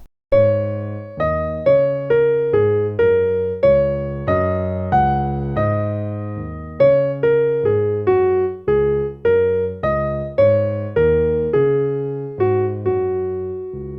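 Solo piano plays a bouncy bar-jazz pattern of repeated chords and melody notes mixing groupings of two and three, clear and close, with a lilting uneven rhythm.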